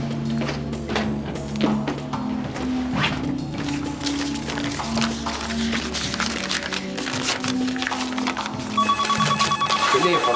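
A telephone rings repeatedly in a steady electronic pattern amid household clatter, with a higher beeping tone joining near the end.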